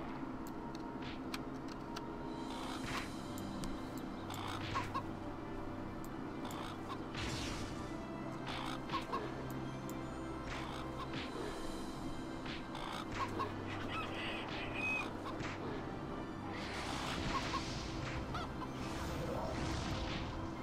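Creature cries and honking, fowl-like squawks from a gray bird monster in a one-on-one fight in Dragon Ball Online Global, repeating over a dense, steady bed of game music and effects.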